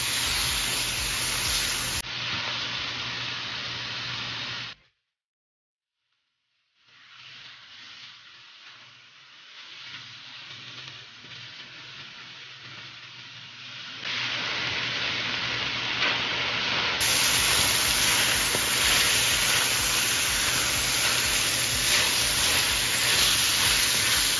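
Pork pieces browning in a pan for Batangas-style caldereta, giving off their own fat, with a steady loud hiss and sizzle, a brief silent gap, then the frying growing louder and denser.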